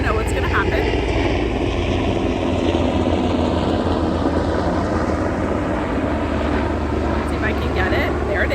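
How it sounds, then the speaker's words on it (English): A helicopter flies over a beach, its engine and rotor making a steady broad roar that fills the whole stretch at fairly close range without fading. "now we've got a helicopter because we are on the beach"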